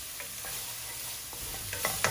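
Four chopped garlic cloves frying in a pan over medium heat, a soft steady sizzle with a few light utensil scrapes near the end and no speech.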